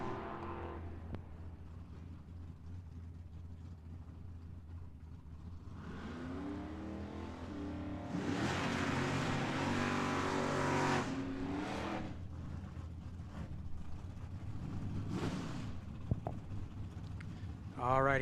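Patinaed Chevy drag cars at Tucson Dragway launch and race, engines building from a low idle to a loud revving roar that fades, heard beneath a track announcer's commentary.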